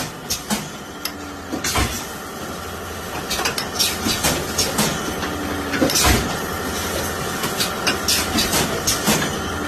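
A factory machine forming homeopathic medicine dropper tubes runs in a hot workshop, giving a dense mechanical clatter with repeated sharp clanks and hissing bursts over a steady rumbling drone.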